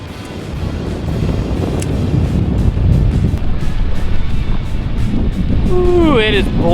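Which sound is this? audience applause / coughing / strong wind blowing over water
strong wind blowing over water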